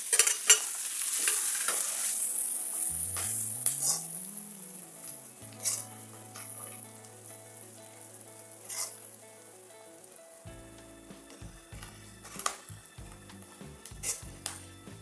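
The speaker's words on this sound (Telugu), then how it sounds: "పచ్చిమిర్చి ఇవన్నీ కలిసి ఇలాగ బాగా వేగాలండి." Onions, ginger-garlic paste, green chillies and curry leaves frying with chilli powder in a pan for fish curry, giving a soft, steady sizzle with a few utensil clinks and scrapes while a tonal background sound plays.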